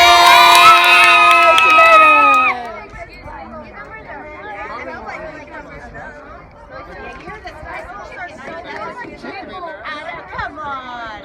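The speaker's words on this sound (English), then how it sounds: "Give her a cheer!" A group of children at a school garden cheer loudly together in a bright burst for the first couple of seconds, then the noise drops to lively crowd chatter and scattered shouts.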